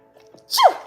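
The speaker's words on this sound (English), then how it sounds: "I am gonna sneeze" A single short, sharp sneeze bursts out after a faint breathy intake, close and fairly loud.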